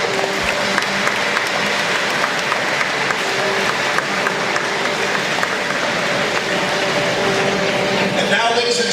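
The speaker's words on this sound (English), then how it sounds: "A huge round of applause, please, for the officials who are here this evening." A crowd at a lacrosse nationals opening ceremony in a sports arena gives officials a long, loud round of applause, sustained clapping filling the hall with some crowd noise mixed in.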